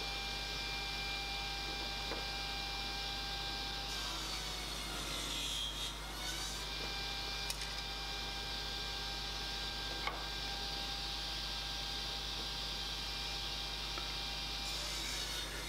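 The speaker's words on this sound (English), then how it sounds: "And cutting the red gum down in size in a few passes." A hard red gum timber board is cut down to size in a few passes. A sawing rasp sweeps across it over a constant mains hum, with a couple of sharp ticks along the way.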